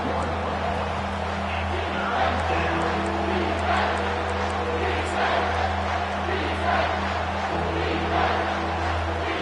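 A home crowd at an NCAA football game roars continuously in a large stadium on a third down, a broad, sustained wash of cheering that swells slightly, heard under a commentator talking.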